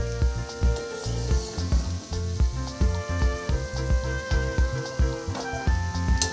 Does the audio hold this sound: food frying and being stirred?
yes